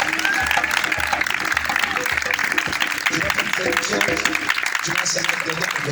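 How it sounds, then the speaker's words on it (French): A church congregation at a prayer service cheers and applauds in acclaim of the name of Jesus, a dense continuous roar of voices and clapping that fills the room throughout. "Acclame fortement le nom de Jésus"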